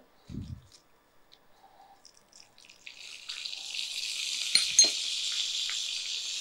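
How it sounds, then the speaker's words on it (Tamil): Mustard seeds, cumin and curry leaves sizzling in hot oil, rising into a steady bright hiss with a few crackles after a quiet start, close and moderately loud, with no voices. "கொஞ்சம் கடுகு, கொஞ்சம் சீரகம், கொஞ்சம் கருவேப்பிலை,"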